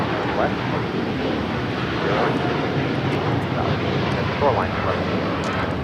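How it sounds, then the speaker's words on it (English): A Turkish Airlines Boeing 787-9 Dreamliner takes off from LAX, its engines a loud, steady broadband roar that holds throughout, with a voice talking over it. "Turkish Airlines flight 180 taking off to Istanbul on a 787-9 Dreamliner."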